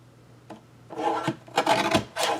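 Cardstock being trimmed for a handmade card, a few short scraping cuts that grow louder, close by with a faint hum underneath and no talk.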